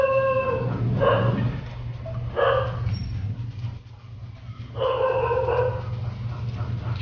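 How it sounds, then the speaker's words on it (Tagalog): A dog barks in three separate bursts, each a cluster of sharp yelping barks, heard at moderate distance over a steady low hum in a home kitchen where eel adobo is being cooked. "Shout out sa aming asong tumatahol dyan. Tahol yung aming aso dyan."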